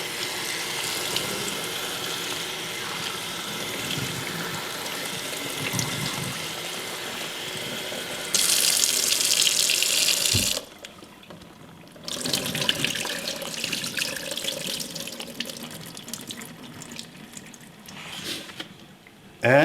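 Tap water runs into a kitchen sink while seafood is washed for Filipino seafood kare-kare, a steady broadband rush that swells louder midway, then drops to quieter splashing and handling with a brief burst at the end.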